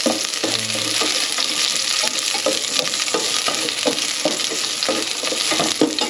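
Garlic, ginger and onion sauté in hot oil, a constant crackling sizzle broken by repeated rhythmic stirring scrapes and clinks of a utensil against the pan, with no speech.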